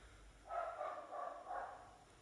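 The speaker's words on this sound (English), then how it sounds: "there's a dog barking" A dog barks somewhere away from the microphone, with four muffled, evenly spaced barks heard faintly over a quiet room.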